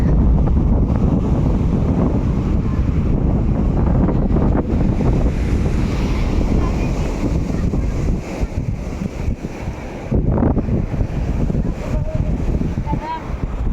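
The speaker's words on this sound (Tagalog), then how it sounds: "Ganito yung dagat." Steady roar of sea waves and gusty wind buffeting the microphone at a tourist beach, loud and continuous throughout.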